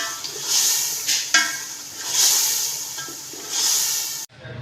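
Meat browning in a pot for yakhni pulao sizzles and hisses steadily, with swelling bursts of frying noise and the occasional clatter of stirring against the pot.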